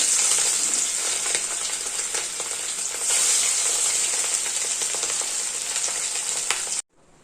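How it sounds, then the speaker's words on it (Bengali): Two pieces of fish fry in oil with a bright, continuous hiss and crackle, loud and close. The sound cuts off abruptly just before the end, and no one speaks. "দু পিস মাছ ছিল মাছগুলো একটু ভেজে নেবো আগে"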